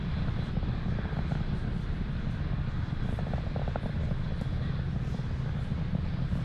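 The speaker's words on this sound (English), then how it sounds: "You just saw there Falcon 9 transitioning to faster than the speed of sound." A SpaceX Falcon 9 rocket climbs through the supersonic transition on a Starlink Group 4-27 launch, a steady, loud, broad low roar with rumbling texture that holds constant throughout, no voices.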